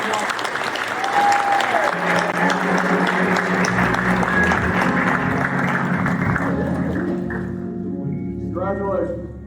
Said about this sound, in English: Y'all give a round of applause for Ms. Taylor.